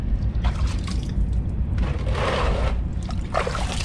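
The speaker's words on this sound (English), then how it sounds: "This will be the second rinse that I put on here of water." Water hoses over a car engine bay during a second rinse after rust scrubbing, a steady splashing trickle with louder bursts of spray hitting metal surfaces, close and continuous.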